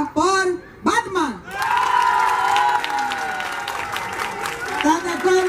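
An audience at a national comics festival applauds and cheers cosplayers, dense clapping with whoops and shouts that swells after a short bit of talk and stays loud, with voices rising again at the end.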